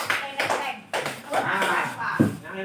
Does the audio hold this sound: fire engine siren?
no